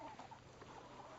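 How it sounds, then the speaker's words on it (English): A rooster and chickens cluck softly and continuously in a short, faint stretch, sounding a little distant with no talk over it. "Oh, that's a rooster."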